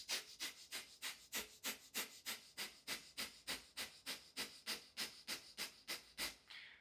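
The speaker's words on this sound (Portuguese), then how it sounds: "Existe uma respiração no yoga chamada de Bhastrika." Bhastrika yoga breathing: a long run of short, fast, forceful breaths through the nose, evenly paced at roughly three per second, close and fairly quiet with a hissing airy texture.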